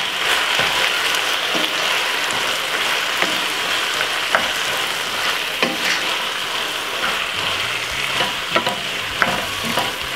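Shredded cabbage stir-frying with barbecue sauce in a hot pan, a steady loud sizzle broken by repeated scraping and clacking stirs, with no talking.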